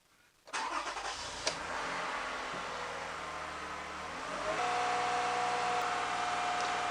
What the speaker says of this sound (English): let's just crank the key a couple of times and listen to the fuel pump